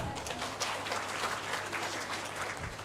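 A group at an International Day of Yoga session claps together in a steady, dense patter, fairly faint and distant, with no speech over it.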